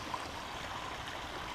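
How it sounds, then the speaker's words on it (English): A waterfall gives a steady, even rush of water that holds at a moderate level throughout, with no voices. "We have a waterfall."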